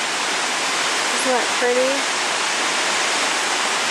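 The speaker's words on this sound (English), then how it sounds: "And then it just plunges down and the creek continues down through this valley." Salt Creek Falls, a waterfall plunging into an icy creek in snow, gives a constant broadband roar throughout, with a short spoken remark briefly heard over it.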